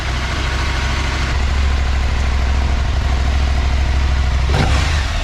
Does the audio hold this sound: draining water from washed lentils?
no